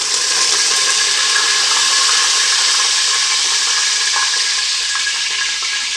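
Mustard seeds, a bay leaf, cardamom, cloves and curry leaves sizzle in hot oil for vegetable pulao, a steady close crackle with small pops throughout and no talking.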